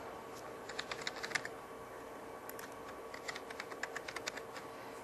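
Rapid clicking of computer keys as a username and password are typed in, bursts of keystrokes with short pauses, close and fairly faint over a steady background hum.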